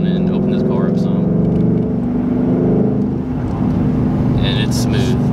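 Inside a 2018 Ford Mustang GT with the 5.0 V8, the engine drones steadily as the car pulls along winding roads, a constant low rumble with faint wind and road noise and no talking.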